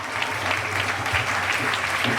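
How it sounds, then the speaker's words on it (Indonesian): Audience at a seminary anniversary talk show applauding a priest, a dense, even round of clapping from a full room, loud and close, with no voices over it. "tepuk tangan dong buat Romo Pranoto"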